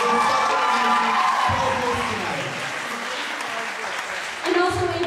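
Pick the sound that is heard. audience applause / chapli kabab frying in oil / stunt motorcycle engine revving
audience applause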